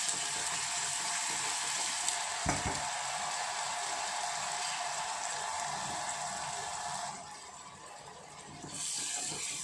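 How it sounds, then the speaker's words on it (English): Ginger garlic paste sautéing in a pan for samosa chaat, a steady hissing sizzle with a brief knock partway through, dipping quieter near the end before resuming. "I'll just saute this"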